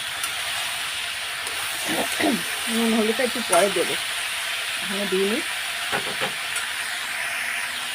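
Potatoes, carrot and slit green chilies fry in a pan with a steady close hiss and sizzle, continuing under someone speaking Bengali in short phrases.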